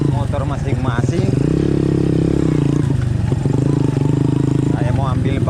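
Motorcycles revving and pulling away close by, their engines rising and falling in pitch, with voices talking over the noise.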